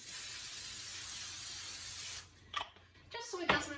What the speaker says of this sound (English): Spraying it with Pam.